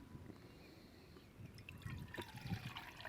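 Water is poured in for an energy drink powder, a quiet trickle that turns into a fuller, bubbling pour partway through.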